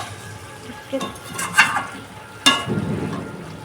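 Chicken curry stirred in a pan and potatoes dropped in, a low sizzle with a couple of clattering scrapes and a splashy thump as the pieces land.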